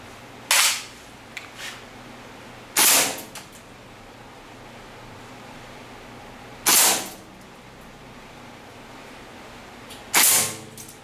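A VFC MP5A2 airsoft gun fires on green gas: four sharp, close single shots with crisp snapping reports, spaced unevenly across a quiet background with no talking.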